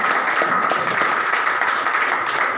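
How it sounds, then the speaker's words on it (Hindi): Indoor audience at an education centre opening claps loudly, a dense, steady patter of many hands that fills the room. "जोरदार तालियां"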